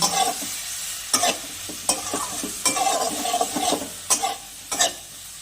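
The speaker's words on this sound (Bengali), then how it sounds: "লঙ্কা গুঁড়ো এবার আমি মশলাটাকে ভালো করে কষিয়ে নেব" Spice masala of turmeric and chili powder stir-fries in a pan for a potato and bele fish curry. A steady close sizzle runs throughout, broken by repeated sharp scrapes of the stirring spoon at an irregular rhythm.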